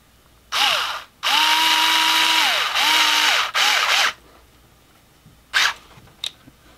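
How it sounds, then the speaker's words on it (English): An electric screwdriver fitted with a wheel key tightens a wheel on an RC Humvee, a loud close whine in several bursts of rising and falling pitch, followed by a couple of short blips. "I cheated a little bit, screwdriver, electric screwdriver, with my wheel key on the end of it."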